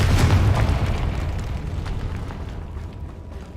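The Confringo explosive spell in the video game Hogwarts Legacy lands as a loud, close boom at the start, then a rumbling burst that slowly fades over a few seconds.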